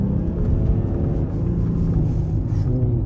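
A VW Touareg FL 3.0 TDI diesel in sport mode holds a steady, deep engine drone around two thousand revs, heard from inside the cabin as a continuous low rumble.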